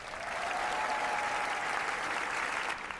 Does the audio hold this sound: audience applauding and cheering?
yes